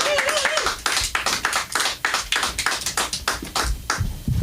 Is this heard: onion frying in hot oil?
no